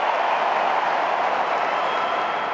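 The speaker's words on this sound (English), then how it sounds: "Listen to the crowd. Listen to them." A large tennis crowd at the US Open makes a steady, loud roar of cheering and clapping that blends into a continuous wash of sound, with no clear voice standing out.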